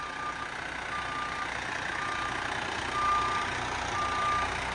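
A large truck reversing gives off a series of evenly spaced high electronic beeps over a low, steady engine rumble heard from inside the cab.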